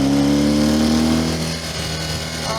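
A small Puch Maxi moped engine revs loudly and close by, its pitch rising and then falling away, alone without voices.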